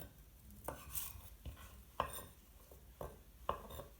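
Kitchen knife slicing food into thin julienne strips on a cutting board, several sharp separate chops and taps spaced about half a second to a second apart, quiet and close with no talking.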